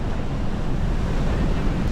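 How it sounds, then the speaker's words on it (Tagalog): Rough surf at Aya Beach Camp in San Narciso, Zambales, roars steadily as big waves break, a dense wash of water with wind buffeting the microphone throughout, no voices. "Medyo wild ang alon."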